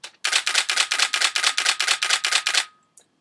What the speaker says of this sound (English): Yeah, only about four frames. Five frames a second.